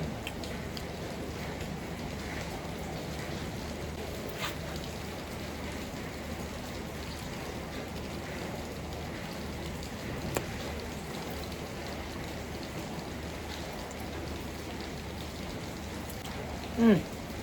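Soft, steady rainfall hisses in the background, with a few isolated knocks and taps breaking through.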